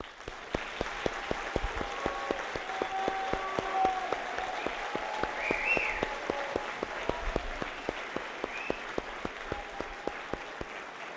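Sustained audience applause fills a university graduation ceremony at the University of Charleston, steady dense clapping at moderate level that carries on without a break throughout.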